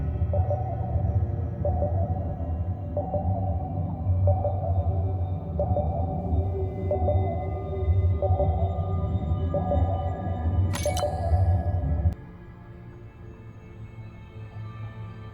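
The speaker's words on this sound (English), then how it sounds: "That's my tag sound." A repeating tag sound in the underwater video game Beyond Blue: a steady low drone with evenly spaced pulsing tones roughly every second, a brief bright blip near the end, then the drone drops away to a quieter ambience.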